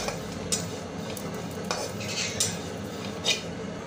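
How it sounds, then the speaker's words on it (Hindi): Ingredients for dates ladoo are dry-roasted and stirred in a pan, giving a soft, steady rustle with a few light scrapes and clinks of a utensil against the metal, quiet and close, with no talking. "इनको भी हम जरा सा ड्राई रोस्ट कर लेंगे"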